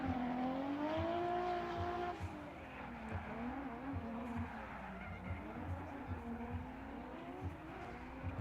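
Nissan S14 drift car in CX Racing livery slides through a chicane at a night Formula Drift round in Las Vegas, its engine wailing and revving loudly with tire squeal throughout, an announcer's voice faintly underneath.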